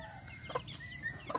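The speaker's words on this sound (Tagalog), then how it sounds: "Ayan, ang kanyang mga chicken." Texas chickens in a coop on a rural farm, a few soft clucks in quick short bursts, faint and close, over quiet background noise.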